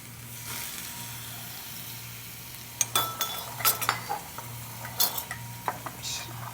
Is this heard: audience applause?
no